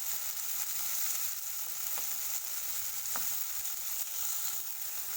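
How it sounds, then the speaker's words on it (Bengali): Shrimp sizzle steadily in a hot pan as they are turned over, giving a constant hiss with a couple of brief scraping clicks and no voices. "আমি মাছগুলোকে একটু উল্টে দেব"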